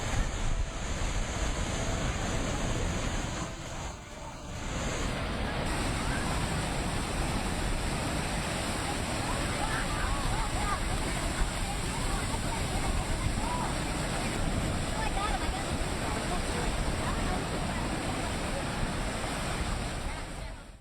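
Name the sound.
powerful ocean waves at Queen's Bath, Hawaii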